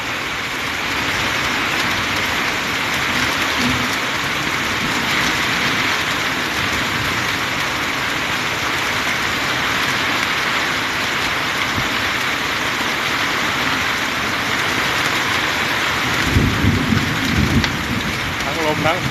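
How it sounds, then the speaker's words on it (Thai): A storm over Mae Moh district in Lampang, Thailand, brings strong wind, heavy rain and thunder: a dense, unbroken roar of downpour runs loud and steady throughout, with a brief louder rumble near the end. "ทั้งลมทั้งฝนแล้ววันนี้"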